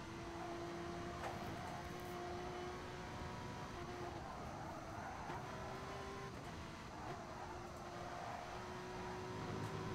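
A Porsche race car in a GT racing video game sweeping through a run of curves, a steady engine drone with shifting whining tones, heard at a moderate level under a race commentator's voice.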